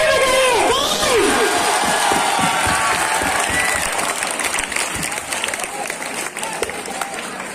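Loud crowd at a college Dahi Handi festival claps and cheers throughout, with whoops and shouts rising over dense, steady applause that eases slightly toward the end.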